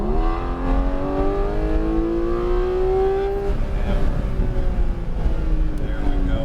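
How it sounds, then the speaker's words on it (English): Race car accelerating on the track at Sonoma, engine note climbing steadily through the revs as it pulls out of a corner, loud and close, with a voice speaking over it. "Roll on the gas ever so gently. Carry that, and accelerate."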